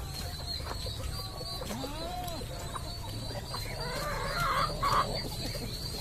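Chickens clucking and calling close by while eating corn feed on a backyard farm, with steady low rumble behind and a few brighter calls near the end.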